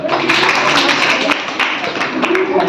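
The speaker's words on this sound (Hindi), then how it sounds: "बहुत बढ़िया, ताली बजाओ" Children in a classroom clap together in a burst of scattered, overlapping applause, fairly close and loud, with voices mixed in over the clapping.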